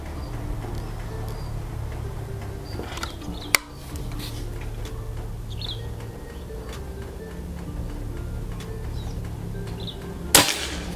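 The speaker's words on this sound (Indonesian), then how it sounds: "Tembakan kedua." Two sharp, short cracks from a PCP air rifle, several seconds apart, stand out against a steady outdoor hum of insects and faint birds.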